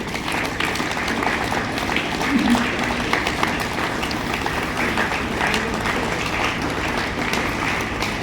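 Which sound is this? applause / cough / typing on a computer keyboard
applause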